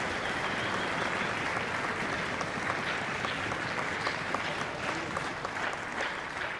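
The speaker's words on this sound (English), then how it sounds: "A big round of applause for all those sponsors for this competition." Dense, continuous applause for the sponsors rises from a concert audience at a tuba and euphonium conference, holding steady and loud for several seconds.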